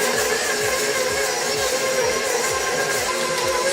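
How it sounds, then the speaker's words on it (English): An electric mixer creams white and packed brown sugar for chocolate chip cookie dough, giving a steady, close whir with a faint, regular low thumping as the beater turns, and no talking. "once it starts mixing like this, I'm just gonna bump the speed up a little bit higher"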